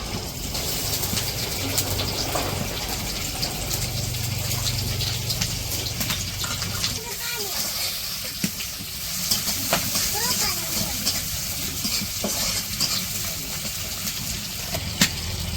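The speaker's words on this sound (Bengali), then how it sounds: "এখন পেঁয়াজ কাঁচামরিচ দিয়ে দিব।" Onions and green chillies fry in hot oil in a wok in a village kitchen, giving a steady broadband sizzle and hiss with occasional crackles throughout.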